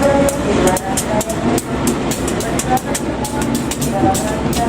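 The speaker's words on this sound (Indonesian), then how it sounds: "Kereta Api Harina dengan rencana akhir stasiun Bandung akan segera diberangkatkan" An Indonesian Harina passenger train sits at the station before departure, rumbling with intermittent clanks and knocks while a station announcement plays over the noise.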